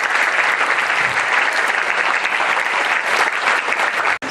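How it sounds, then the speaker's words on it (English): Audience applause for young girls and boys at an Independence Day and investiture ceremony, a loud dense continuous clapping from a large crowd lasting about four seconds, cutting off abruptly at the end. "So can we clap very loudly for these young girls and boys?"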